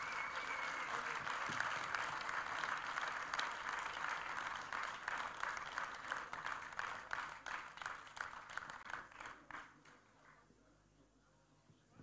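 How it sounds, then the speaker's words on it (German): Hearty audience applause at a TSV 1860 Munich fan evening, dense clapping that gradually thins into scattered individual claps and fades out near the end. "Dann, glaube ich, geben wir den beiden Meisterlöwen nochmal einen dicken Applaus."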